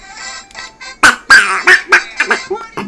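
Someone does a close, loud Donald Duck impression, with quacky, garbled bursts of voice coming in quick uneven pulses, imitating the cartoon duck while playing New Super Mario Bros. 2.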